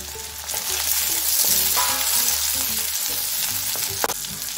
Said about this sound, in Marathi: लसूण पेस्ट, यामध्ये थोडेसे मटर टाकून घेऊया।